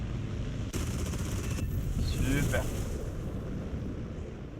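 Aircraft cannon fire from a Yak-3 in a flight combat video game, a short burst of rapid shots over wind and engine rush, with a brief spoken word.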